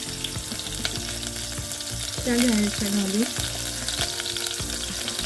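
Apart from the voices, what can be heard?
chilies frying in hot oil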